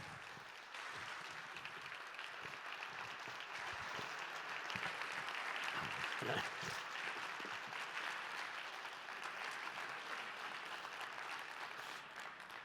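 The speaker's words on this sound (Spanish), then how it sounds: "espero que lo recibamos con un fuertísimo aplauso a Eduardo Strauch" A large audience gives sustained applause welcoming a speaker onto the stage at a talk on resilience and survival, a dense, steady wash of clapping lasting over ten seconds with faint crowd murmur.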